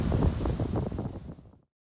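Strong wind at a surf beach on Shirasato coast in September buffets the microphone in a loud, rough rush with roaring gusts, then cuts off abruptly after about a second and a half.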